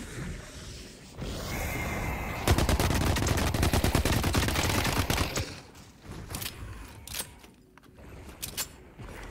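Automatic gunfire in the video game The Cycle: Frontier, a loud sustained burst of rapid shots lasting a few seconds, followed by scattered single shots, mechanical clicks and quieter in-game sounds.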